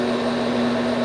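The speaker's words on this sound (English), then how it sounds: "I'll make a couple more cuts here." A metal lathe makes a thread-cutting pass with a steady, even motor whine and a constant hum. It runs alone for a brief moment.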